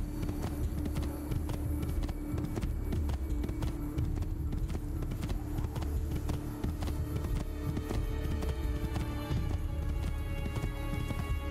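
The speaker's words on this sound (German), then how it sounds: "Warum kommt der Pferd an?" Hooves of a horse clip-clop steadily in Assassin's Creed 2, a busy game scene with a continuous beat of hoofbeats over background ambience.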